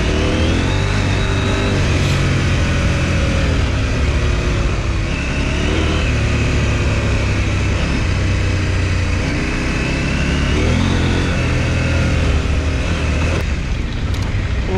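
A 2023 KTM 890 Adventure motorcycle engine drones loud and close with wind rush, its pitch rising and falling through several rev swells and shifts, with no talk.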